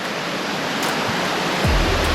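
Rain-swollen creek water roars in a continuous loud wash close at hand, with a short low thud toward the end and no one speaking.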